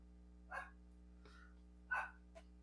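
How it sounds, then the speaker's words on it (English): A dog indoors in an apartment gives two short, muffled barks a little over a second apart, faint and distant against a steady low electrical hum, with a couple of softer huffs between them. "I apologize if you hear my dog barking."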